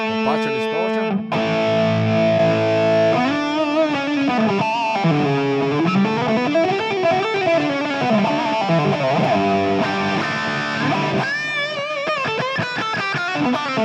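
An electric guitar with partial distortion from a Fractal preset plays a melodic phrase with slightly crunchy tone, sustained notes and slides, loud and close with no talking.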